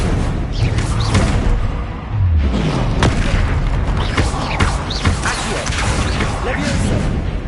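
Spell blasts boom and crash repeatedly in the Hogwarts Legacy video game as the Confringo fire spell is cast amid other combat spells, loud dense impacts over rumbling effects, while a voice calls out spell names.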